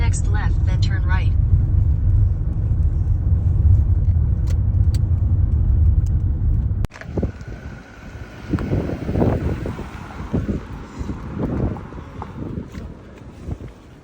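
A car drives along a road trip to Malham village in England, its steady engine and tyre rumble filling the first half before cutting to quieter roadside sounds with people talking nearby.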